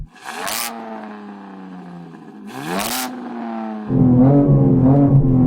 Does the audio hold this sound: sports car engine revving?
yes